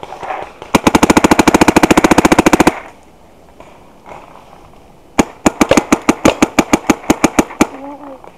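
A Dye NT11 paintball marker fires rapid bursts on an outdoor paintball field, a tight fast string of sharp pops, a pause, then a second slightly slower volley, close and loud, with a voice briefly heard near the end.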